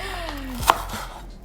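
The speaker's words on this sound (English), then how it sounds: "start cutting up our other vegetables" A single knife chop through vegetables on a cutting board while preparing a veggie soup, one close, sharp thud over a quiet kitchen background.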